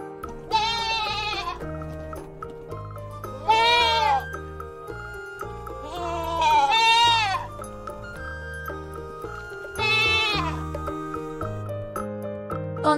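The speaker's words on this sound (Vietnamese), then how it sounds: "Con dê tiếng Anh đọc là goat." A goat bleats four times in wavering, tremulous calls, each lasting about a second, with gentle background music playing steadily underneath throughout.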